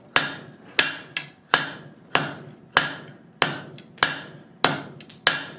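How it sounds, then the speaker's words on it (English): Hammer blows strike hot metal held over the horn of an anvil while forging a hand, landing as nine sharp, ringing impacts in a steady, even rhythm, close and loud, with no talk. "You hit it on each side equally and work right up into that curve."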